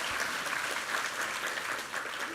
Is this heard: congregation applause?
yes